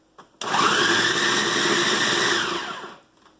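Kitchen blender pulsing tomatoes for gazpacho, starting abruptly with a loud, steady high-speed whir for about two seconds, then winding down and stopping.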